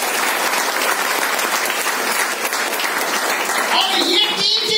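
An audience breaks into loud, sustained applause, a dense wash of clapping that continues steadily without letting up, with a voice emerging near the end.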